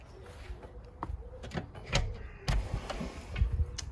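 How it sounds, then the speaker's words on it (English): A greenhouse door opened in the morning in West Sussex gives a quiet series of sharp clicks, knocks and a brief scrape, spaced irregularly against a faint background. "Down to the greenhouse, which is time to open the door for the morning."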